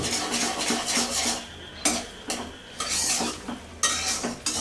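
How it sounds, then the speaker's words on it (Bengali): Spoon stirring Bombay halwa with ghee in a pan, scraping and rustling in repeated bursts with soft sizzling underneath, close and fairly loud, no talking. "আমার এটাকে নাড়তে হবে ঘিগুলো সাথে ধীরে ধীরে মিশে যাবে"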